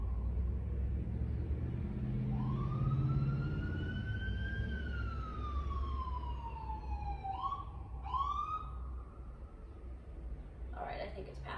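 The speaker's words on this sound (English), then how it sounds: "I'll pause for the siren outside." A siren wails outside during a home yoga session, heard distant and muffled as a single long rise and fall with a few short yelps, over a low rumble of room noise.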